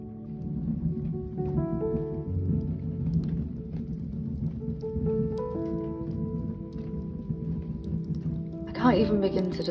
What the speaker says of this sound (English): listening to the light rain hit the canvas of the tent